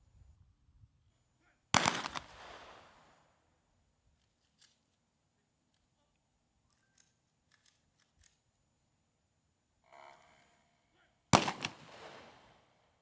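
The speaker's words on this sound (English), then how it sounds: "those who are listening will actually get a chance to hear 96 volleys" Two loud, sharp gun salute blasts in honour of the Queen at Little Bay Park ring out several seconds apart, each trailing off in a rolling echo, with faint distant sounds between.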